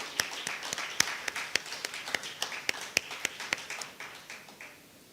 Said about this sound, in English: Another round of applause for everyone.